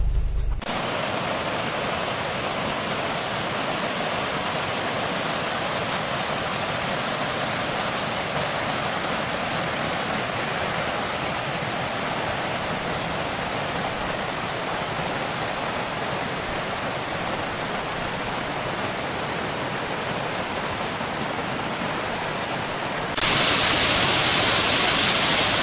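Abrams Falls pours in a continuous, dense roar of rushing water after heavy rain, loud and close throughout with no voices, steady from start to finish.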